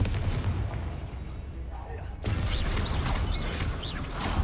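A Confringo fire spell cast during combat in a Hogwarts video game, a sudden burst followed by a loud, dense roar of blasts and crackling effects layered with game music and mechanical clatter.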